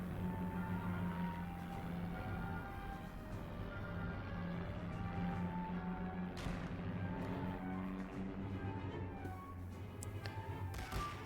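Distant thuds of bombers and artillery bombarding troops in The Great War: Western Front, scattered booms over a continuous low rumble of battle ambience.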